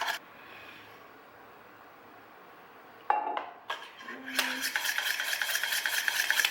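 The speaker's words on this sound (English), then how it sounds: "I'm gonna whisk this together. I'm gonna slowly add oil until it emulsifies." Whisk clinking and scraping against a bowl of Dijon mustard dressing as oil is slowly added, quiet at first and then a steady, rapid metallic rattle close by.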